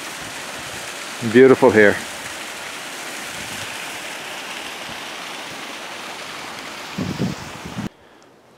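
Jane's Falls, a waterfall in a pretty wooded setting in Nova Scotia, rushes as a steady broadband roar throughout, with brief talk over it near the start and end.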